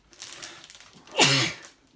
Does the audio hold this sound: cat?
no